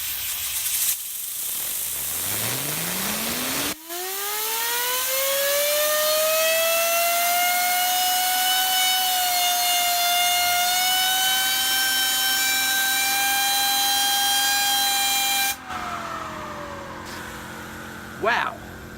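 A fidget spinner on a tiny R1E8 bearing spins up to about 16,000 RPM, a rising whine that climbs fast, holds as a steady high-pitched hum for several seconds, then drops away.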